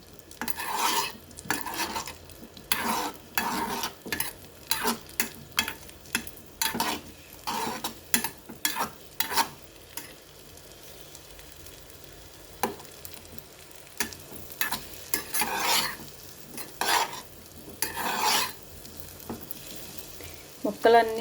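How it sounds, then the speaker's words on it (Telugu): Sweet potato pieces fry in ghee in a pan, giving a sizzle broken up by repeated scraping stirs of a spoon against the metal. The stirring comes in irregular bursts over about twenty seconds. "ఈ ముక్కలు ఇందులో వేసేసుకుందాం. కొంచెం నెయ్యిలో వేగించుకుందాం."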